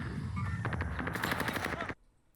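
A rapid burst of automatic gunfire in the shooter game Call of Duty Warzone, a quick string of sharp close shots lasting about a second before cutting to near silence.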